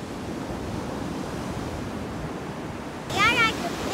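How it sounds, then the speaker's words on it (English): Rough ocean surf rolling onto a beach, a steady broadband wash of breaking waves with wind across the microphone, joined near the end by a brief higher bird-like chirp. "Where are we at? At the beach."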